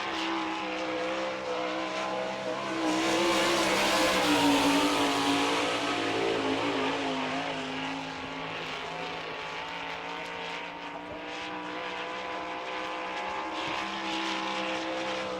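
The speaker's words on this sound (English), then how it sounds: "our first sprint car to qualify in 2000 here at Volusia" A sprint car roars around a half-mile dirt speedway at Volusia in Barberville, Florida, during a qualifying lap, its engine a loud, sustained scream that swells as it passes near, then settles into steady drone.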